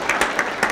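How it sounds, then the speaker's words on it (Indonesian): Audience applause at a lively comedic stage show, a brief patch of steady clapping with a few sharper hits standing out, close and moderately loud. "Kita tepuk tangan untuk ibu-ibu."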